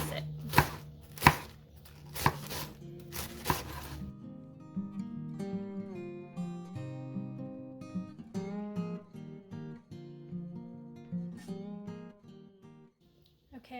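A knife slices through a vegetable on a cutting board with several crisp, close chops over the first few seconds, then music plays alone.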